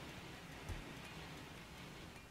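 Faint rain falling outside, a soft steady hiss with one brief low thump.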